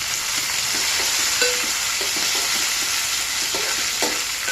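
Onion pieces fry in hot oil for an egg and tomato curry, a steady close sizzle with occasional soft stirring scrapes and small pops throughout.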